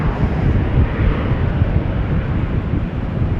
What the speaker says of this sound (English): What we are going to see is KLM flight 565 to Nairobi. 777-300.